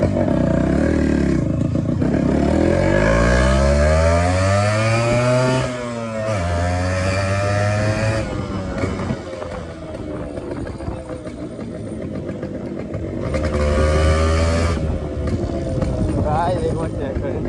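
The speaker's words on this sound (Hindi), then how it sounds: "एक बार आपको मैं पिकअप दिखाता हूँ फर्स्ट गियर में" A motorcycle pulling away hard in first gear, loud and close, its engine note climbing steeply in pitch, dropping, then revving again with shorter bursts later; someone talks at times.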